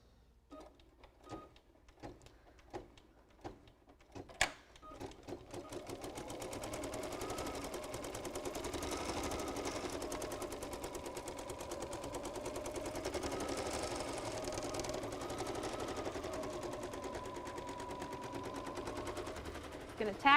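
A home sewing machine top-stitches fabric for a quilted appliqué project. After a few scattered clicks and taps, a steady, fast mechanical whirring begins and runs close and moderately loud to the end, with no speech over it.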